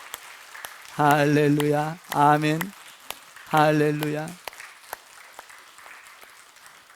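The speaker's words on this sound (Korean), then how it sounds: "그 열매를 보고 박수 한번 올립시다" Applause from a church congregation during a Sunday worship service, a steady crackling wash running underneath loud voices calling out between bursts.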